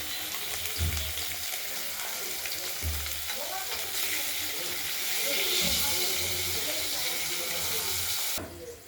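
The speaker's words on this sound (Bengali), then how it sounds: "ভাজা হোক, দেখতে থাকুন।" Fish frying in a pan for a Bengali rohu curry with potatoes, a steady crackling sizzle filling the clip, with brief louder stir bursts and no talking.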